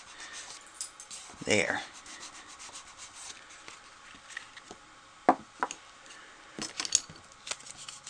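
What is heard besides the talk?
rubbing paper with a bone folder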